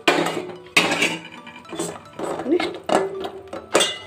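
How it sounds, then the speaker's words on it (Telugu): A plate set as a lid over freshly made nut sweets coated in sugar syrup: several sharp ceramic clinks and knocks in quick succession, ringing briefly, with talk between them. "ప్లేట్ మూతేసేసుకుందాం."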